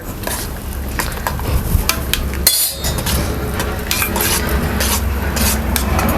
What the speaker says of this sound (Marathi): आता आपण हे मस्त फिरून घेऊया